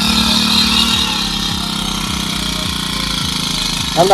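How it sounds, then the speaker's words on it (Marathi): A small petrol-engine crop sprayer runs steadily at close range on a wheat farm, a loud continuous rattling drone with a regular pulsing beat and no pauses. "मशीन लोड बघा चालू झाला आहे"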